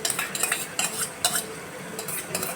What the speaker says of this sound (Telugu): సో మసాలా ఇలా బాగా మగ్గిన తర్వాత మనం పెరుగు వేసుకుంటున్నామండి.